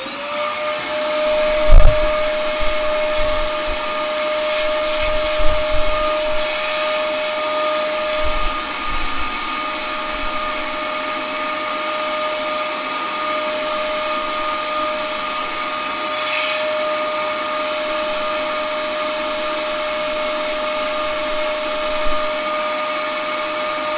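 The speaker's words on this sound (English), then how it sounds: "Now we can vacuum under there." Vacuum cleaner running under the motor board of a 1974 Williams Lucky Ace pinball machine during repair: a loud, steady whining drone throughout, with a few low thumps and bumps as the nozzle knocks around inside the cabinet.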